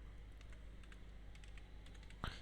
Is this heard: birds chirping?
no